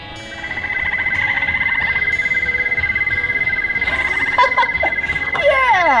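A toad croak played from a button on a children's animal sound toy at an indoor playground, a steady electronic croaking drone with rhythmic pulses lasting several seconds, ending in a few brighter chirping sweeps.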